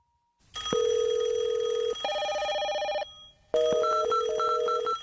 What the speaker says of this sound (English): imagine making a phone call